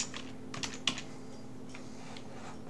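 Keys tapped on a computer keyboard during C# coding, a few quick bursts of clacks spread over a couple of seconds, close and fairly faint, with no talking.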